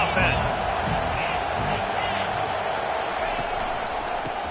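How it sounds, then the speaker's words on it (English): Stadium crowd noise from the College Football 25 video game, Miami versus FSU, a dense steady roar with scattered whoops under continuous play-by-play commentary. "This crowd trying to make life miserable for this offense."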